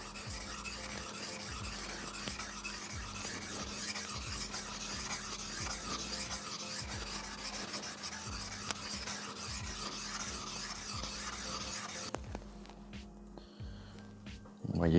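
Steady rasping strokes of a knife blade worked across a whetstone to hone a convex edge, repeated back-and-forth passes at a moderate, even pace, close and continuous until the scraping stops near the end.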